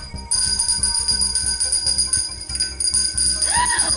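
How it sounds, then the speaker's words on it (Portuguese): A small handheld bell rings in a child's bedroom, bright sustained tones layered over a steady rhythmic pulse, close and fairly loud without talking. "vamos tocar agora o sininho"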